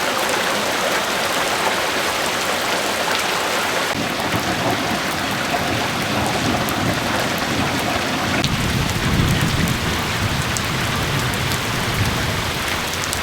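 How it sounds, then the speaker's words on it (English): Heavy rain pours steadily on an Arizona farm during a monsoon storm, a dense continuous hiss with low rumbling beneath, loud and close throughout, no voices. "It rained good this week."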